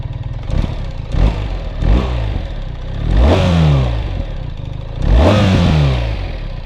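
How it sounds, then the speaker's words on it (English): A 2024 BMW R1300GS Adventure motorcycle engine at idle, heard from the rider's seat, blipped through several sharp revs that rise and fall, the last two longer and stronger, with no talk. "Let me fire up the motor and let you know how it sounds like."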